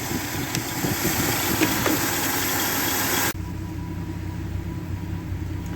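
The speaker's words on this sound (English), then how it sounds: "It seems to be running okay now. It does have a bit of a funny idle." A 1976 Dodge D100 pickup's carbureted engine idles roughly up close, a steady, uneven rumble with a slight rhythmic wobble that drops in level partway through.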